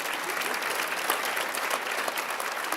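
Steady audience applause at a women's rights event in Westchester, a dense, even wash of many hands clapping throughout, loud and continuous with no pauses.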